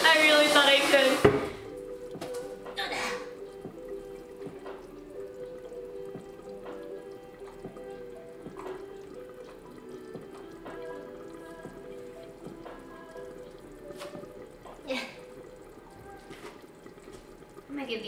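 Tap water gushes loudly into plastic containers for a moment as they are rinsed at a kitchen sink. Afterwards the containers clink and clatter quietly while being handled nearby.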